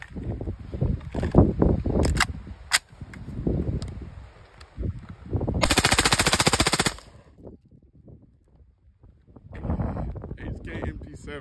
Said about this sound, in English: This is the HK MP7.